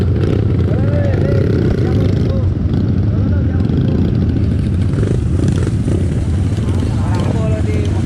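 A motorcycle engine revs hard and steadily while the bike is stuck in mud on a road in Soppeng, South Sulawesi, loud and close, with people talking over it throughout.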